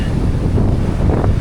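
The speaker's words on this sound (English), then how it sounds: "we can see again even more of the waves coming in" Steady wind gusts against the microphone and the low surf of ocean waves rolling in on a surf beach at Siargao, Philippines, make a dense, loud wash with no voices.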